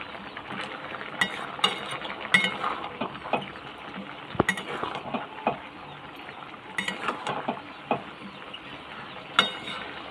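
A spoon clinks and scrapes in a pot while prawn curry with stem vegetables, pumpkin and potato is stirred, giving irregular metallic taps and scrapes at moderate level over a soft background, with no voices.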